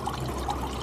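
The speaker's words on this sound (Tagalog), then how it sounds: "Ang ating homemade water fountain." A homemade garden water fountain trickles and splashes in a soft, continuous wash of flowing water, with no voices.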